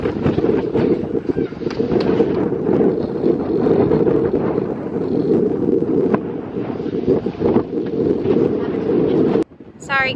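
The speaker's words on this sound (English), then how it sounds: "it's super windy today" Strong wind buffets the microphone on a hilltop outdoors in Germany, a loud, rumbling roar that runs almost the whole time before dropping suddenly near the end.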